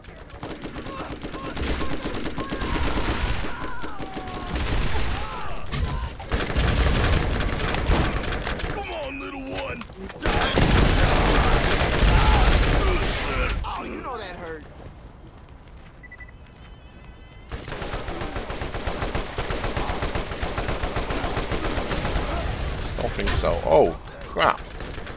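Enemy gunfire in the video game Borderlands, rapid bursts and fusillades of shots coming in waves with quieter gaps, mixed with game effects and a player talking at times.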